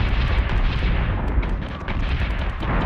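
A battleship's secondary battery guns fire in a video game, giving a dense, rumbling barrage of booms and blasts with rapid sharp reports layered over it, loud and continuous throughout.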